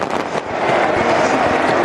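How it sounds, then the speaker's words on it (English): Fireworks go off at a cricket World Cup semi-final between England and Australia, a loud, dense, continuous crackle and rumble blended with crowd noise. "the fireworks show what it means to this country"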